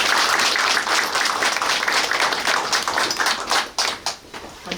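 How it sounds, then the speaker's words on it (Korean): An audience at a political party's policy meeting in Suncheon, South Korea, gives a burst of welcoming applause, dense clapping that holds steady and then thins out into scattered claps. "우리 모두를 위해서 환영의 박수 보내주시면 고맙겠습니다"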